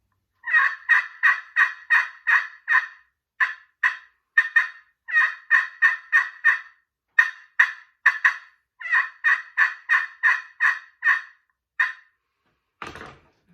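Walnut Zink Power Hen slate pot turkey call worked with a laminate striker, producing a series of sharp, high yelping hen calls in quick rhythmic runs with short pauses, loud and close, ending in one brief scrape.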